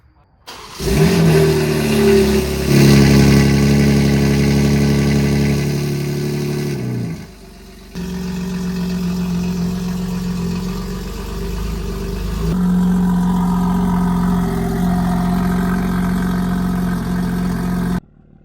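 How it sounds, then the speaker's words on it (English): A BMW G80 M3 exhaust sounds while the car is driven, with a loud, deep engine drone that rises as it accelerates, briefly drops off, then pulls again through sustained, throaty revs close to the microphone. "hopefully this gives pretty good sound of the exhaust while also giving me the ability to speak to you while I'm driving"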